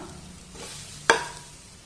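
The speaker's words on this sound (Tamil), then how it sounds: "தேங்காய் கொஞ்சம் மணம் கொடுக்குற அளவு 1 நிமிஷம் போதும்" Grated coconut dry-roasts in a pan for coconut burfi: a low, faint sizzle and stirring hiss with one sharp utensil clank against the pan partway through, nothing spoken.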